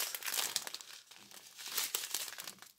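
A plastic bag of loose craft supplies crinkles and rustles as it is handled during an unboxing, with close, continuous crackling bursts and no talking.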